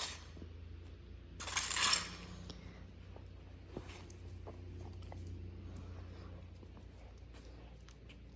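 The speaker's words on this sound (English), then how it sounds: "Sometimes when you shuffle the food around like this, they can just immediately go into eating" Dry dog food kibble is shuffled around, giving one short rattling clatter early on, followed by faint scattered clicks against quiet background noise.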